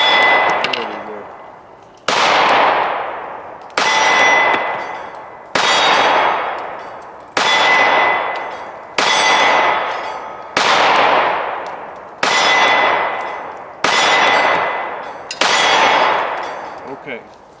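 A pistol, a Glock 43x or Shadow Systems CR920, fired at a steel target: ten sharp shots spaced about every second and a half, each with a bright metallic ring and decaying echo, loud and close, with no talking.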